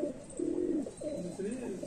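A Sialkoti pigeon coos close by in a series of soft, low, rolling calls, with a voice speaking faintly underneath.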